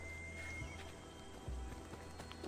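A horse in Assassin's Creed Odyssey video game snorts and whinnies briefly over soft hoof clops and a low game ambience, with no talk.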